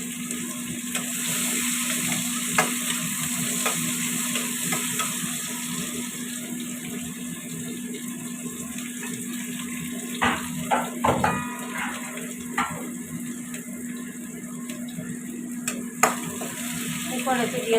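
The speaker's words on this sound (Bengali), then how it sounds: "একটু গোটা জিরে দেবো। দিয়ে দিচ্ছি পেঁয়াজ।" Chopped onions and whole cumin seeds fry in hot oil in a pan, giving a steady close sizzle with the clatter and scrape of stirring, strongest around the middle of the stretch.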